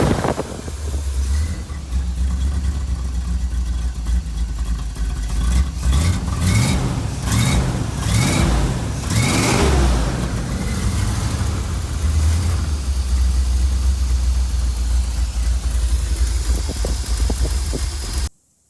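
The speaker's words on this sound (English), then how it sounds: "let's do another rev of the engine, see what it sounds like" Van engine fitted with a Flowmaster exhaust and Quadrajet carburetor, a loud close idle rumble broken by a few revs that rise and fall in the middle, then a sudden cutoff.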